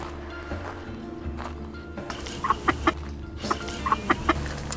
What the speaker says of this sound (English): There's chickens in the bush.